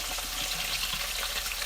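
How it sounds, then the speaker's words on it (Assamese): Knife fish frying in hot oil in a home kitchen, giving a steady, close hiss of sizzling with no voices over it. "এয়া মাছ মোৰ ফ্ৰাই কৰা হৈ গ'ল।"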